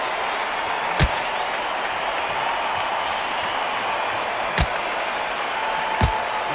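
Steady crowd murmur fills a boxing arena in the video game Undisputed, a constant broadband buzz punctuated by three sharp impact thuds spread across the stretch.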